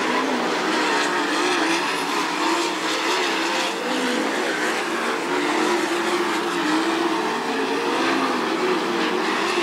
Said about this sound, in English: Takes the car down the backstretch and into turn 3 for the final time.